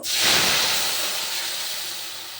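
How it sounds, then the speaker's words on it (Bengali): Fish curry cooking in a pan gives a steady close hiss and sizzle that rises quickly at the start, then eases slightly and holds at a loud level throughout. "মাছটা এখন রান্না হচ্ছে"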